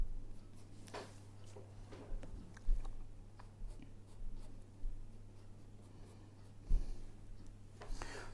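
A black pencil scratches across paper in soft, irregular strokes with brief pauses, close and quiet over a low steady hum.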